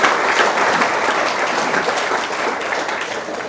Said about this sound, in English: Perhaps we could all just give Andrew another round of applause for his excellent presentation this morning